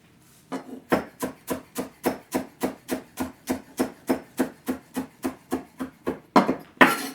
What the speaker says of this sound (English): I'm going to chop up some cilantro